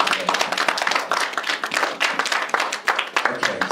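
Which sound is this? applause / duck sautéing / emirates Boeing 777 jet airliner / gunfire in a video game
applause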